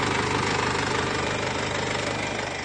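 A car engine idling while the car sits covered in flour and bean paste before a wash: a steady, dense mechanical rumble with faint knocking, close and loud, unbroken throughout.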